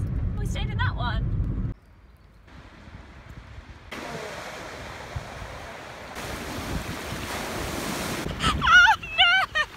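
Sea waves wash and roar in broad, surging bursts with wind buffeting the microphone, while excited voices speak at the start and again near the end.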